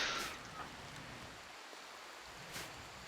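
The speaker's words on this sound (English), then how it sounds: "I just don't want to walk out in the rain" Rain falls in the video game Rimworld, a faint, steady hiss of soft patter with a couple of brief brighter splashes, heard alone without talk.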